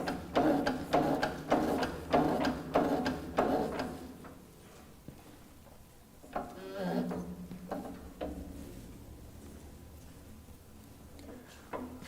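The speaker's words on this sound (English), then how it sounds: "We can pump our handle." A side shift drum lifter's hand pump is worked in a run of about six even rhythmic creaking strokes. A few quieter mechanical clunks and groans follow.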